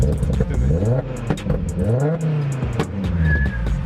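A stage 3 Audi TT RS tuned to 600 hp accelerates hard, its engine rising in pitch through repeated revving sweeps, loud and close, with brief shift breaks between pulls.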